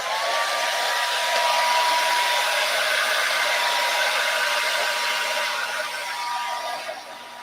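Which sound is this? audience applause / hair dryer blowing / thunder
hair dryer blowing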